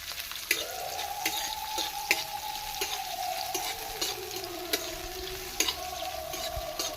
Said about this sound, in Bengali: তেল গরম হয়ে গেছে আমি এই তেলের মধ্যে পেঁয়াজ কুচিয়ে দিয়ে দিচ্ছি পেঁয়াজটা একটু লাল লাল করে ভেজে নেব